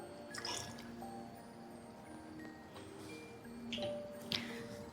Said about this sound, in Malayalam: അതിനുശേഷം സാമ്പിൾ ടെസ്റ്റിംഗ് ബോട്ടിലേക്ക് ഒഴിക്കുക